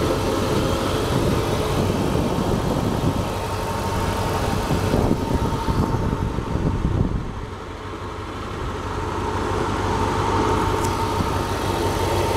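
A 1999 Dodge Durango's 5.9 liter V8 engine idles steadily with a low, rumbling drone, briefly dipping in level before settling back.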